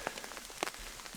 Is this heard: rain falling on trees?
yes